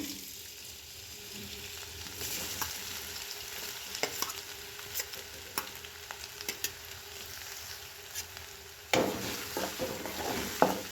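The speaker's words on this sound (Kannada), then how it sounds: "ಎಣ್ಣೆ ಕಾಯಕ್ಕೆ ಇಟ್ಟಿದ್ದೀವಿ ಆಮೇಲೆ ಇದಕ್ಕೆ ನೋಡ್ರಿ ಶುಂಠಿ ಬೆಳ್ಳುಳ್ಳಿ ಪೇಸ್ಟ್ ಆಮೇಲೆ ಒಂದು ಮೆಣಸಿನ್ಕಾಯಿ ಹಾಕ್ಕೊಂಡಿದ್ದೀವಿ" Ginger garlic paste and green chilli frying in hot oil for street-style gobi manchurian, a soft continuous sizzle with scattered spoon clicks and stirring scrapes, growing louder toward the end as more goes into the pan.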